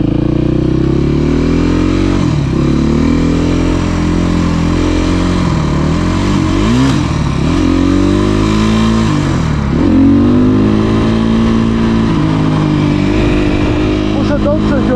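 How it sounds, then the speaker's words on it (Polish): A motorcycle engine revs repeatedly on wet ground during wheelie practice with a cold, weakly gripping clutch, loud and close, rising and dropping in pitch over a continuous idle while someone talks over it. "Pompować tak to sprzęgło, jest zimne, to słabo bierze, wyrywa."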